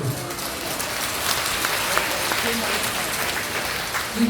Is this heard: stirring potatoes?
no